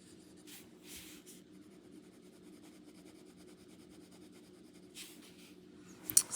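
A fountain pen with a fine nib scratches across paper in short, faint strokes with quiet pauses between them, soft and close, over a low steady background hum.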